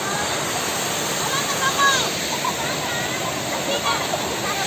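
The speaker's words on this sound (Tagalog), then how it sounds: "Lihim na ilog to." A river rushes in a constant, full roar close by, with people talking over the flowing water.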